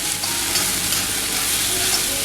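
Flattened rice and upma ingredients sauté in a pan with a constant close sizzle and light stirring, no talk.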